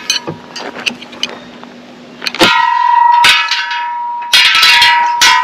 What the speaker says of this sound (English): we could have ring the bell